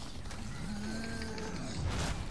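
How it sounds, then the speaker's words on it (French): A cow moos in Resident Evil 4 Remake, one long low drawn-out call over a constant ambient rumble, fairly loud and unaccompanied by speech. "il y a Monsieur Vache qui est toujours là, qui est vraiment pas content"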